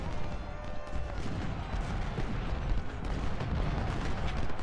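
Soldiers' rifles firing in dense, continuous volleys during an American Civil War battle at Port Republic in Ultimate General: Civil War, loud crackling gunfire with booming shots throughout.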